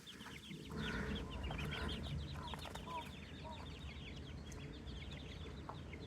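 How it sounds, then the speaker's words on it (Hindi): Chickens cluck and murmur steadily around a mango orchard, close and continuous, with other farm animals and outdoor bustle mixed in. "ये देखें मुर्गियां।"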